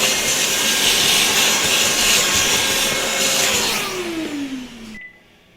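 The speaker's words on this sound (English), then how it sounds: "Let me just vacuum this up real quick." A vacuum cleaner cleaning up after a wooden name-sign-and-easel craft project roars with a steady, loud motor whine, then spins down with a falling pitch and cuts off near the end.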